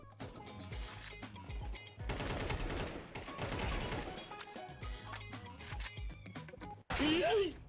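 Rifle gunfire in Counter-Strike 2, loud rapid bursts and tapped single shots in an uneven rhythm, broken by short pauses and ending in a sharp ricocheting whine, with someone commenting over it.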